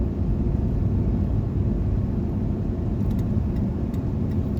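A rear-wheel-drive Ford Crown Victoria on Firestone WinterForce2 tires drives through 4 to 8 inches of fresh snow, giving a steady, close interior engine and road rumble that runs without a break. Faint ticks come in near the end.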